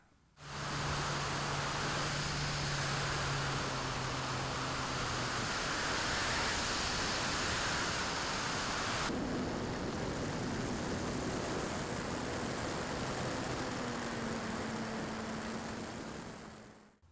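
Volantex Ranger G2 RC plane on its maiden flight, its electric motor and propeller giving a steady, loud broadband whir at throttle up that holds for about sixteen seconds, with a shift in pitch midway through.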